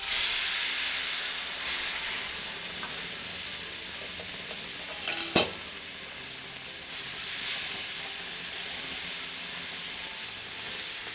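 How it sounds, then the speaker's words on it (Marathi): Hot water poured into roasted wheat flour for sheera sets off a loud, steady sizzle and hiss close by, with a sharp pop midway and stirring scrapes as the hissing slowly settles. "बघा त्याच्यात पाणी घालून घेते मी."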